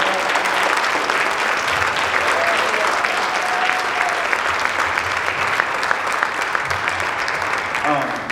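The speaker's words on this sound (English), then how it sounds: "So I want to give them all a round of applause." Audience applause at a high school instrumental music department Christmas concert, loud and continuous clapping filling the room evenly for several seconds, close and steady with a little crowd noise mixed in.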